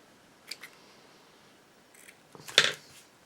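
Scissors snipping the tail of a ribbon while making a small bow, heard as a couple of quiet, close crisp cuts amid near silence.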